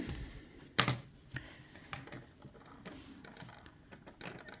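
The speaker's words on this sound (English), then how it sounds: "that's a noisy wee knitting needle. Yeah, it's got the clackety clack" Knitting needles clack in an irregular run of light taps while garter stitch is worked on an i-cord edge, with one sharper click near the start and softer clicks after, close and fairly quiet, with no talking.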